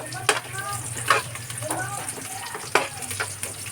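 Garlic and onion frying in hot oil in a pan, a continuous close sizzle broken by a few sharp stirring scrapes and clinks.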